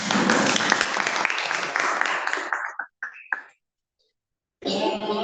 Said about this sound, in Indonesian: Oke, cukup, tepuk tangan.